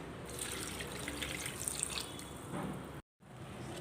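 Water is poured over tamarind in a bowl to soak it, a short, soft, steady splashing trickle heard close by, cut off abruptly just before the end.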